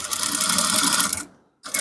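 A sewing machine runs steadily while top stitching a men's palazzo trouser, a close, continuous whirring stitch that stops abruptly near the end, then a brief restart.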